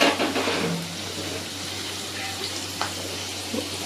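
Green chillies hit a hot frying pan while making an egg stir-fry with ponnanganni greens, giving a steady, soft crackling sizzle over a low background hum.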